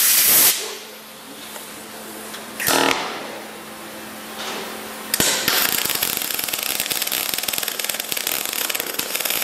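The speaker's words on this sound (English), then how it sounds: "Now we're just going to go to do a plug weld." MIG plug welding with the machine set around 51 to 53 on metal through a hole, a steady crackling sizzle of the arc after a few bursts of hissing, close and loud, with no talking.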